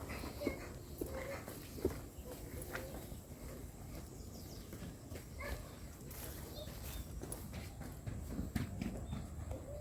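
A Brahman-cross cow walks on the ground, its hooves giving soft, faint irregular thuds and shuffles at a moderate distance, amid low outdoor ambience with no talking.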